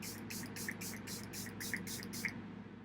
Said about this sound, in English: So then I spray that on my face, and that really helps kind of lock everything in.